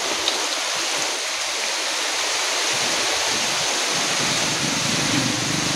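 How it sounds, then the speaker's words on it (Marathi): A steady, loud rush of floodwater overflowing across a road during heavy rain fills the whole stretch, a continuous broadband roar close by with no voices. "रस्ता पूर्ण भरलेला आहे आणि पाणी ओसांडून वाहत आहे"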